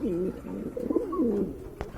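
Two pigeons coo close by in low, wavering rolling calls, phrase following phrase over about two seconds, fairly clear against a quiet background with no talking.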